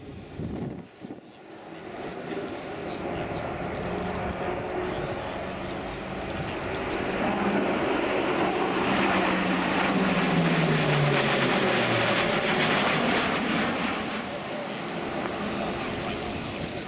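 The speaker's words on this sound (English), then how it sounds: "Given the size and the fact that it is nevertheless a turboprop aircraft." A large turboprop military transport, the A400M, makes a high-speed pass at an air show display, its engine roar swelling from distant to loud and then fading with a falling pitch, while an announcer's voice talks over it.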